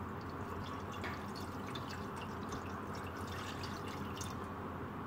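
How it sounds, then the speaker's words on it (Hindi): Water is poured into the outer pot of a cooking vessel set up for steam-roasting beef, making a faint, continuous splashing and trickling that stays even throughout. "ये आप देख रहे हैं मैं इसमें पानी ऐड कर रहा हूँ"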